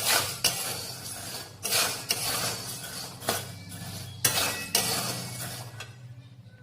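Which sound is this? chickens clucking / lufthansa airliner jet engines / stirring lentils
stirring lentils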